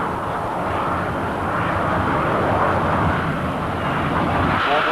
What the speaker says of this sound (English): you will see the Royal Air Force aerobatic teams lined up on the runway, about to take off